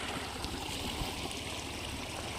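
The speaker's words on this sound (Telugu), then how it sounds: "మన ఊర్లోకి మెయిన్ కాలువ ఇట్లా ఉంటుంది, ఫుల్ పోతున్నాయి." Full flow of water rushing through a main irrigation canal, a steady, dense outdoor wash of running water with no talk.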